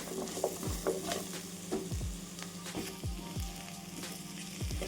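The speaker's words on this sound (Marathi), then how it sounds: "भेंडी पण छान आपण फ्राय करून घेऊ" Okra fries in a pan with a continuous close sizzle. Scraping strokes of a spoon stirring the pieces recur every half second or so, and no one talks.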